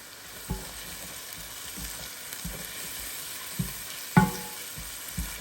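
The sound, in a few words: shallots, garlic and tomatoes sautéing in a pan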